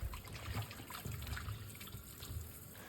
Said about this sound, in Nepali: अनि मैले माछालाई पानीमा सफा गरेँ।